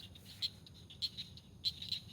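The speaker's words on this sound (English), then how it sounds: "I can assure you can probably hear all these frogs chirping" Frogs chirping at a secluded retention pond after seven in the evening, short bright calls repeating in small clusters about every half second, faint and steady against quiet background noise, no voices.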